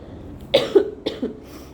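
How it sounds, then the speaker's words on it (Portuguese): Two harsh, heavy coughs in quick succession, close and loud, each a rough double burst, with near silence around them. "uma tosse muito forte, uma tosse cheia"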